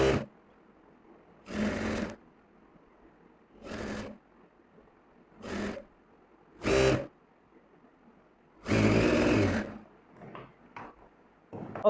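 Sewing machine stitching a double seam on a pair of trousers, in several separate bursts of whirring of varying length with quiet gaps between, the longest run near the end, close by and moderately loud.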